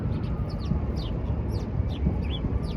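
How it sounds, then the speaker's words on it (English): Birds chirp outdoors in short, scattered high calls repeated every half second or so over a low, constant background rumble. "You hear the birds, right? I hear the birds."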